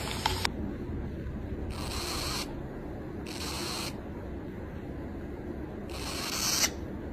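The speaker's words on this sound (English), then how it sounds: "It just like continually sprays the water out." Water mister used to give pet birds baths, spraying in four short hissing bursts separated by pauses, close and fairly faint over a quiet background.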